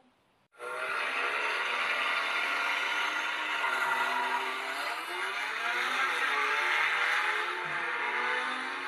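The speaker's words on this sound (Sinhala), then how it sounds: "අඩෝ බ්ලැකා මට වාහනේ පාලනය කරගන්න බෑ බං." A car engine roars continuously at high speed, its pitch wavering and climbing as if pushed hard, loud and close with no voices.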